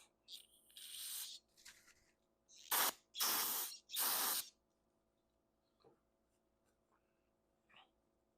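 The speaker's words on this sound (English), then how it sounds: "So I'm going to spray a lot of carb cleaner in here to clean this off." Several bursts of pressurized carb cleaner spray hiss onto a 1963 Chevy C10 four-barrel carburetor, two short then three longer blasts close up, followed by faint clicks and quiet.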